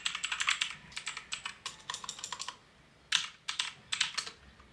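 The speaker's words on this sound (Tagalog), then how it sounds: "Speed daw, speed typing." Fast typing on a computer keyboard by a child, with rapid clustered key clicks in bursts and short pauses, close and fairly quiet.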